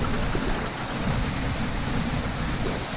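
Steady rain hisses and patters on surfaces during a motorcycle ride on a Honda Click 125i scooter through Infanta–Real, Quezon, a continuous broadband wash with no voices.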